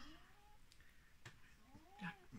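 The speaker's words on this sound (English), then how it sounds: "hear Jack meow at me" A house cat meows several times, faint and somewhat distant, with drawn-out rising and falling calls and a slightly louder meow near the end over a quiet room.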